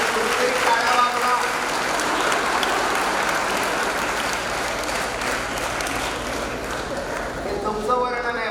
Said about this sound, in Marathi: आणि कुठेतरी टाळ्या वाजवा.